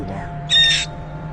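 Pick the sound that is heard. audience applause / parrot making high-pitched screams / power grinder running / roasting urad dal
parrot making high-pitched screams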